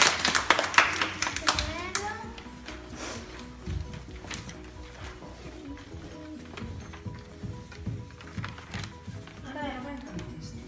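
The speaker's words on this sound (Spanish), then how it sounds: "Un aplauso." Schoolchildren clap in a brief burst of applause that starts loud and uneven, then fades as kids' voices and an adult talk over scattered claps and taps.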